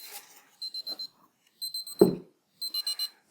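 Alarm clock ringing while shut inside a polystyrene insulation box, sounding as three separate bursts of rapid electronic beeping, still fairly loud and clear through the box.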